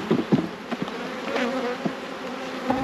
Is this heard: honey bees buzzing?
yes